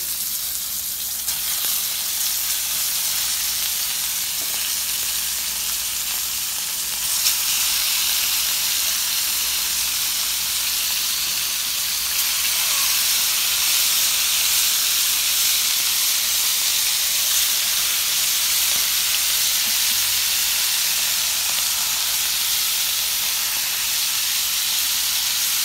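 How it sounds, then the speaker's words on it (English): Scallops sizzle on a hot George Foreman grill, a continuous dense hiss and crackle of frying that carries evenly for the whole stretch, with a faint brief surge partway through and no talking. "So now, I'm gonna grab these scallops and throw them on."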